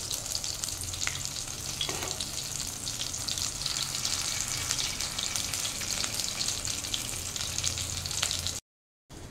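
Chhana (paneer) koftas dusted with flour fry in hot oil, giving a steady, dense, close crackling sizzle that runs without a break before stopping abruptly near the end.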